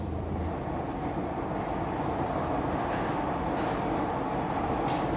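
A Paris metro train runs with a continuous loud rolling roar and rattle heard from on board, with faint clicks and no talking.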